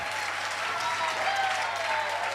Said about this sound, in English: A round of applause to our Honorable Sechitoleko.